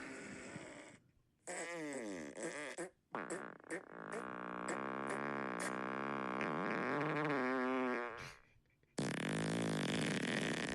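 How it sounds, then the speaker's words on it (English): Synthetic fart sound effects fired off one after another from a phone soundboard app, a run of loud, buzzy, stuttering blasts of varying pitch with short pauses between them, close up. "I just downloaded a fart soundboard."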